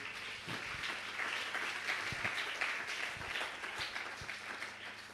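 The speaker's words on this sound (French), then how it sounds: "Est-ce que nous pouvons acclamer pour la gloire de Dieu?" A church congregation applauds in praise of God, a steady wash of clapping that carries evenly for several seconds at moderate distance.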